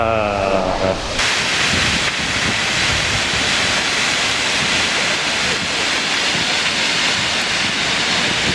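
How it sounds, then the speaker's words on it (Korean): Brandywine Falls pours with a steady, loud roar of falling water heard up close, a dense broadband rush that fills the whole stretch after a brief quieter moment at the start. "브랜디와인 폭포"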